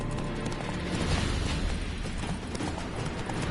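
A spooked horse in The Witcher 3 video game, heard as a close, busy clatter of hooves with a faint whinny, all set in dense game ambience.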